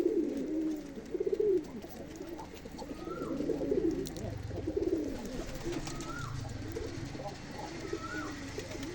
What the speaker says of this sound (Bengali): সবাই আমার কবুতরের জন্য দোয়া করবেন